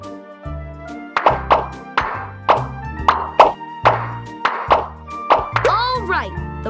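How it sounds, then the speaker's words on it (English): Cartoon bubbles popping one after another in a Paw Patrol bath-time video game, a rapid series of about a dozen sharp plopping taps over upbeat game music, ending with a rising sparkly flourish. "Now tap all the bubbles to pop them."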